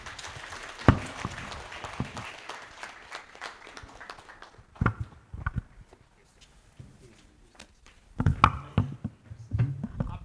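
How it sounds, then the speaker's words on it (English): At an annual general meeting, scattered applause for the CEO comes in uneven bursts with quieter gaps between them. Shuffling and voices can be heard in the room. "A hand clap for our CEO, our PMG."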